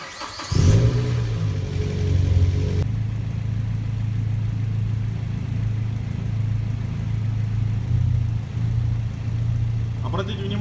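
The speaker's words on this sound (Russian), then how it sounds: "запустить двигатель и включить кондиционер" Car engine idling steadily with the air conditioner compressor switched on, a low continuous hum with a brief rev near the start and talk over the opening seconds.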